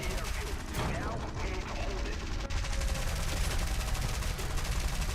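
Steady rapid gunfire from a player's gunner in a combat video game, a dense continuous rattle of shots with anti-aircraft fire mixed in, loud and sustained under game noise with occasional voice.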